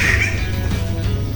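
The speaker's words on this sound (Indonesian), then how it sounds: "Udah mulai kedengaran suara burungnya deket banget, ada di sana kata bapaknya sekitar 3 ekor." A bird of paradise calls in a forest in the nutmeg country, giving a loud, close, harsh squawk that holds steady for just over a second.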